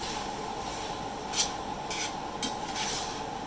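Green onions being stirred into Thai cashew chicken in a hot pan, giving a steady low sizzle with a few brief scraping and rubbing strokes, close and fairly quiet, no talking.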